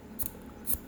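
Scissors snip off excess yarn from a crochet bag: two quick, crisp, close cuts about half a second apart, with no talking.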